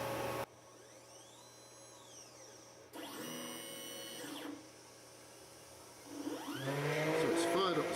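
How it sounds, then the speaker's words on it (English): Spindle of a Roland PNC 2300 engraver cutting into MDF, a quiet mechanical whir with shifting whining tones that stop and start in bursts as the cutter moves, then builds louder near the end. "So it's fired up the spindle. And we're actually engraving. Now this is a bit of MDF"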